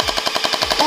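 A toy gun fires a rapid, evenly spaced stream of loud pulsing bursts, about ten per second, close by, ending with a rising electronic tone; no one speaks over it.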